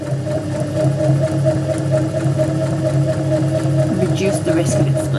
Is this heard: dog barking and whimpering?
no